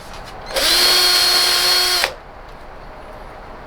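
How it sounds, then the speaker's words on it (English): A power drill whirs steadily for about a second and a half, close and loud, drilling out bolt holes in Toyota pickup tail lights, then stops, leaving quiet room tone. "I gotta drill out the holes on these in the back."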